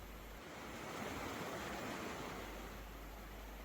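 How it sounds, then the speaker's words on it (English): A cold mountain stream flows over smooth stones below a narrow wooden bridge on the way to Canikdere Waterfall, a soft, steady rushing wash that stays even throughout with no voices. "Below, cold mountain water flows over smooth stones, creating a soft, steady rhythm."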